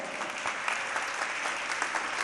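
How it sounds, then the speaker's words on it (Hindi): Audience applause for children at a Jain religious discourse gathering, a steady dense clapping that stays even and fairly close throughout, with no talking over it. "एक बार बच्चों के लिए तालियां बजाओ"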